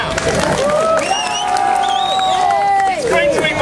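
A street-show crowd at a Huddersfield festival of light claps and cheers, with whoops and raised voices over the applause.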